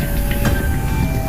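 The KA Brantas train runs on the Banjir Kanal Barat railway in Semarang after colliding with a container truck, a loud, close and steady rumble of rail noise filling the whole moment.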